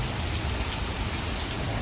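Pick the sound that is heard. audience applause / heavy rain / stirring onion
heavy rain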